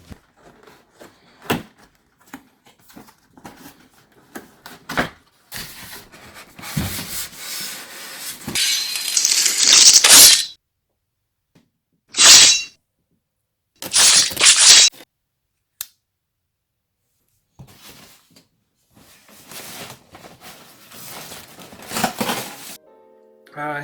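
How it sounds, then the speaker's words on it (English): Packaging for an Iron Studios Weapon X statue being opened, with scattered rubbing, scraping and cardboard handling noises, some louder rustling bursts broken up by pauses of silence. "let's go straight into the unboxing"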